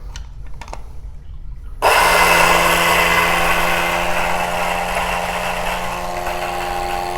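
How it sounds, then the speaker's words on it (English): DF83 coffee grinder grinding Gesha coffee beans for espresso or Aeropress: after a few faint clicks it starts abruptly and keeps up a loud, steady whirring grind that eases slightly toward the end. "a little above 40 on this DF83, and I'm going to grind it."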